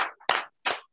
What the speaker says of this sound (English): I want you to unmute yourself and clap for the Lord